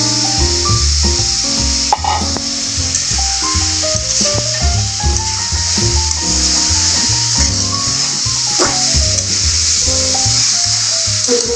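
Potatoes and papaya stirred into a pan of cooked-down Bangla curry base give a steady, close sizzle and hiss, with music playing over it throughout.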